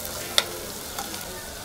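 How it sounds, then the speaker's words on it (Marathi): Peanuts stirred into softened onion in a pan for Khandeshi masala khichdi, giving a steady quiet sizzle with one sharp spoon scrape near the start and a softer clink later, with no voices. "आता हे शेंगदाणेही ह्या कांद्यामध्ये थोडे परतवून घ्यायचे।"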